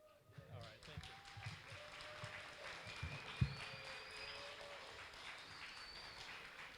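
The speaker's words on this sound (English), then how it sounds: "I don't get claps for very often" Audience applause fills a high school gym at a senior awards ceremony, a steady spread of clapping with speech over it, plus one sharp thump partway through.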